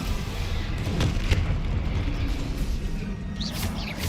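In Hogwarts Legacy, a Bombarda explosion spell booms with heavy low rumbling and a few sharp blasts. The roar runs on steadily, with faint high whistling streaks near the end.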